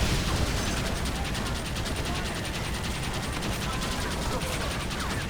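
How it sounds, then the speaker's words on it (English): Rapid gunfire in a Red Dead Redemption battle in Mexico, a fast rattling stream of shots and mechanical clatter with dense explosive noise, loud and continuous under faint voices. "Ahora, hermanos, shoot the barrels."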